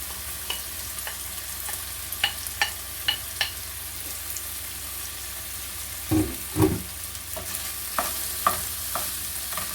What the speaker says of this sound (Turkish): Üzerine bir orta boy soğan ve bir büyük kırmızı biber ilave ediyorum. Birlikte kavuruyorum.